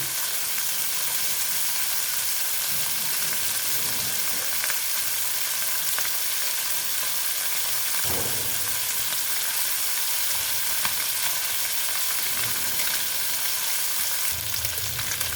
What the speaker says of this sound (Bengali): দেখো মাছগুলো ভেজে নিচ্ছি